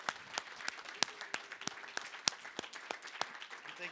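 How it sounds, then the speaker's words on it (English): A small audience at a Hackfort 2021 workshop session claps for the presenters, a fairly sparse round with distinct individual claps popping out over a thin patter, moderately close. "let's give these guys a round of applause"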